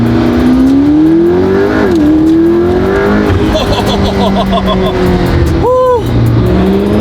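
A McLaren P1 hypercar revs and pulls hard, engine pitch climbing through gears with a sharp shift and a brief high whine, loud and close from inside, with occupants talking and exclaiming over it.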